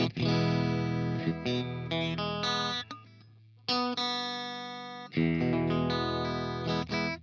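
An electric guitar played through a Beetronics Fat Bee overdrive pedal rings out in thick, saturated chords and sustained notes, with a brief quieter break in the middle before the loud chords return.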